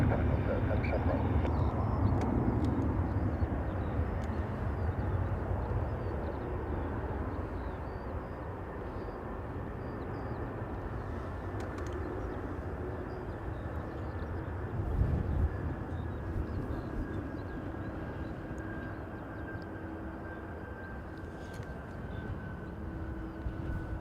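Aircraft on Dublin Airport runway 28 right, a loud steady jet engine roar that fades slowly over the whole stretch, with air traffic control radio voices heard faintly.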